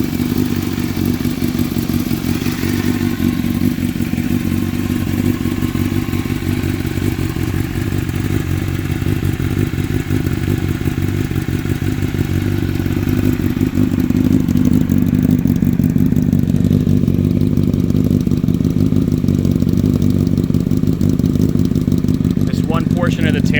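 A Honda CBR1000RR motorcycle engine with 17,386 miles idles after a cold start, a loud, close, steady rumble holding throughout with little change in pitch.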